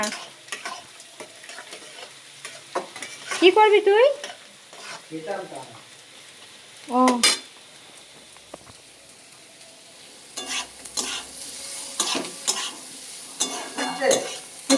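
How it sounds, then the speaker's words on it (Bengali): Onions fry in a pan with a sizzle while a spoon scrapes and stirs in short bursts. A person speaks briefly between the stirring. "এই পেঁয়াজটা ভাজা হয়ে গেলে ওই যে মশলাটা দিয়ে দেবো"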